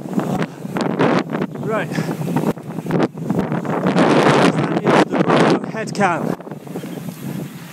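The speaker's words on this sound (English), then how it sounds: "Oh my god, that headwind is brutal." A strong headwind buffets a Rylo 360 camera microphone while riding, making a gusty, roaring rumble that rises and falls. Someone speaks briefly over the wind.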